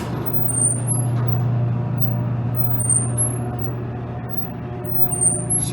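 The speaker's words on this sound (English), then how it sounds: "Listen to this motor." A 1910s manual Otis freight elevator motor runs with a steady low hum and a continuous mechanical drone, joined by faint high-pitched whines that recur a few times.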